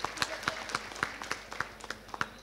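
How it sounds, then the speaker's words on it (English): Sparse clapping at a government inauguration ceremony for a Ministry of Road Transport and Highways online approval facility, a handful of distinct claps in an uneven rhythm, fairly faint and roomy. "A huge round of applause for Shri Chibbar."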